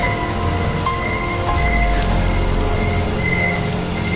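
Rain falls steadily outdoors at night, a continuous, even hiss with no breaks and no voices over it.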